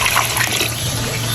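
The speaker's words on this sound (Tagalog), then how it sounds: "Ilagay na sa pressure cooker at lagyan ng tubig." Water poured into a pressure cooker holding pork pata, a continuous close splashing and gurgling pour over a low steady hum, with no talking.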